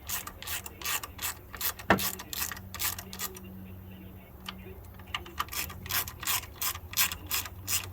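A ratchet torquing bolts on the engine of a 2012 Ford Fusion, giving a close, steady series of sharp clicking strokes that keep going throughout, with no talk over them.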